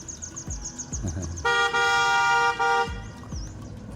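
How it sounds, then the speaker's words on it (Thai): A car horn blares in one long steady honk lasting over a second on a narrow mountain road in Mueang Khong, Chiang Dao, with short chirpy toots and road noise around it. "เวลาสัญจรก็ต้องคอยบีบแตรนะครับ เพราะว่ารถสวนนะครับ"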